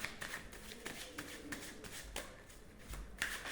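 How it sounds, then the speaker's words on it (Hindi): Tarot cards being shuffled by hand, a soft, steady papery riffling and slapping that repeats in quick bursts, close and fairly quiet, with no voices over it. "मैं कुछ कार्ड्स निकाल लेती हूँ।"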